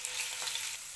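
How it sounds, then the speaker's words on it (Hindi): Garlic paste sizzling in ghee for a kadhi tadka, a close, steady frying crackle with no talking. "अब हम लहसुन का तड़का लगाएंगे"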